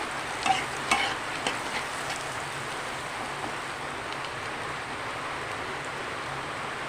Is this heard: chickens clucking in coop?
no